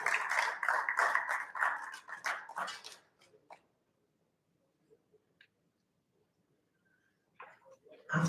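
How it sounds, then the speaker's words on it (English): Applause for an award winner at the Afritech 3.0 awards ceremony swells loud and dense for about three seconds, then dies away into near silence with only faint scattered sounds until a brief burst at the end. "A round of applause for them."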